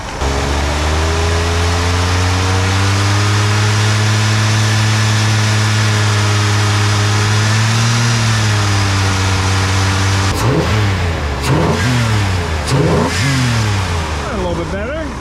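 A 1987 Ford Bronco engine during a tune-up, idling loud and close with a steady hum before a string of sharp revs that rise and fall in quick bursts, with talk over parts of it.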